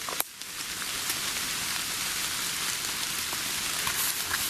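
Steady rain falling outdoors at night, a dense, even hiss of drops with a few sharper pattering spots, close and continuous for the whole stretch, with no voices.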